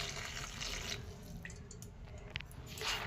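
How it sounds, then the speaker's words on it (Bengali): Hot water with salt and sugar is poured into a bowl in a kitchen, giving a soft, steady trickle and splash with faint drips, a short wet sound heard alone. "এই গরম জলটা এর মধ্যে ঢেলে দেবো।"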